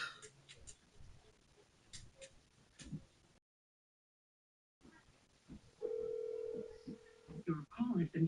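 A telephone rings during a call in a video game, a steady electronic tone that sounds after a brief dropout, with speech before it.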